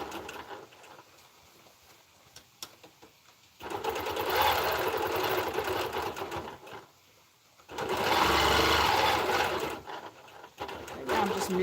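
A sewing machine quilts a poinsettia quilt in bursts of steady, rapid stitching, two long runs separated by quieter pauses, fairly close and loud.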